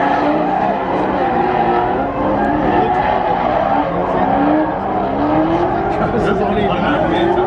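Drift cars make continuous high-revving engine noise with rising and falling pitch sweeps and tire skidding throughout a drift battle event. A commentator talks over the sound.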